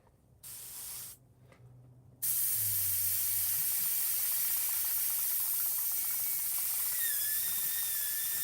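An airbrush sprays white paint onto vintage lettering cutouts: two short bursts of hiss, then a continuous close, steady spray that runs to the end.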